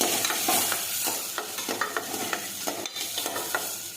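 Chopped cowpeas sizzle in a hot pan with mustard seeds, cumin and asafoetida, a steady frying hiss broken by rhythmic scraping stirs, close and fairly loud.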